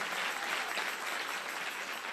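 Congregation applauding during a church sermon, a continuous dense roar of clapping filling the room, close and steady throughout.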